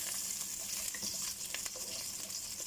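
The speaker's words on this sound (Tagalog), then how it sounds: "Dito naman sa bilang kawali, mga best friend. Ayan, magigisa tayo. Bawang." Garlic sautés in a frying pan with a steady, fairly soft sizzle. Light stirring scrapes and occasional crackles sound close by, with no voices.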